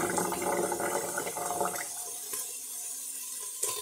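Tap water runs steadily while hands are washed, a broad rushing splash that is loud at first and then thins toward a quieter trickle with a small knock near the end.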